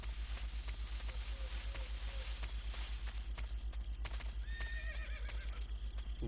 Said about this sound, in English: Un caballo.